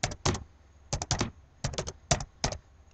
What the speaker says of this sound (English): go to Google and type your song